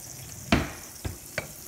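A wooden spoon scrapes through melting butter in a pan, giving three soft taps and stirs, one stronger and two lighter, over a faint steady sizzle.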